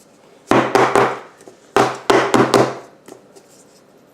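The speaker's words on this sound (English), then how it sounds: "I'm just gonna kind of shake it around, and I'm gonna actually bang it" A filled carrot cake pan banged repeatedly on a kitchen counter, two clusters of sharp, loud, close knocks in quick succession, then fainter taps, with no talking.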